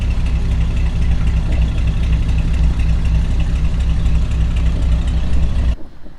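A 1968 Buick Riviera GS with a 430 V8 idles steadily nearby, a deep even rumble that runs unbroken for several seconds before cutting off abruptly near the end.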